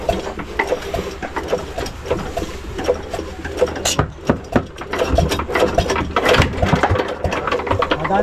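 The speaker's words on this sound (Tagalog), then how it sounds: "papatrin natin kung gumagana yung makina" A small diesel engine on a fishing boat under repair chugs with an uneven rhythmic clatter and knocking, loud and close.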